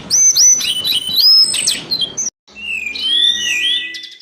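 A teledekan, the worm bird, sings a loud, close run of bright chirps and whistled phrases, breaking off briefly before starting again with a more varied trill.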